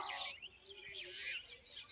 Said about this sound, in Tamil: பாருங்கள், இவ்வளோ பறவை பார்க்க முடியுமாங்க.